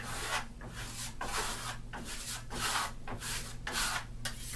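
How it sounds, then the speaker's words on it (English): A trowel held flat against a wall sweeps in circular motions while applying Firenzecolor Dune Africa One Coat metallic finish, making a soft, quiet, rhythmic rasping of about eight repeated scraping strokes close by. "I'm putting my trowel flat on the wall and going into all circular motions"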